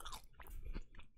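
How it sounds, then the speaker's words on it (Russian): Fresh, crisp salad eaten during a burger meal, heard as close, moist chewing with a few sharp crunchy bites over about a second, with no talking. "Это салат. Прям хрустящий, свежий."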